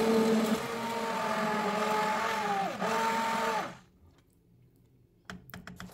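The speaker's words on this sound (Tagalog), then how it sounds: "So gamit itong stick blender, i-blend natin hanggang maging smooth at creamy yung kanyang texture." A stick blender whirs steadily while blending soup until smooth and creamy, a loud close motor hum with pitch dips as it works, then cuts out to near quiet with a few light clatters.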